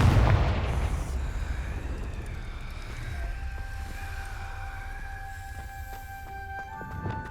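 A Confringo fire spell bursts in Hogwarts Legacy with a loud, booming blast at the start that settles into a long rumbling tail, with tonal magical ringing layered over it.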